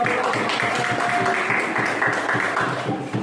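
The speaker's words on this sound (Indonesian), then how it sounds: "mari kita berikan tepuk tangan untuk kelompok 5" A classroom audience claps for a student group stepping up to present, a steady dense patter of many hands at moderate loudness running throughout with no voices over it.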